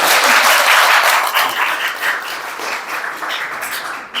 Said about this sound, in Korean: 한번 박수 크게 한번 쳐보겠습니다